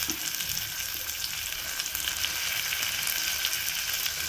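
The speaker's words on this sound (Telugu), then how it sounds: "దీనిలో మనం కడిగి ఉంచుకున్న ఎండు రొయ్యల్ని వేసేయాలి." Washed dried prawns frying in a hot pan for a ridge gourd curry, giving a loud, dense, continuous sizzle with no pauses, close up and with no voices.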